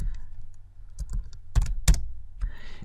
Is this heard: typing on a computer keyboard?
yes